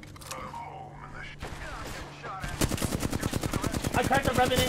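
Gunfire in the video game Apex Legends. A few scattered shots open, then a rapid automatic burst hammers out close and loud over a steady rhythm.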